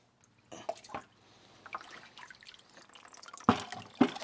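Scattered drips and small splashes of water fall as aquarium equipment is rinsed during a saltwater tank water change, close up, with a couple of louder splashes near the end and no speech.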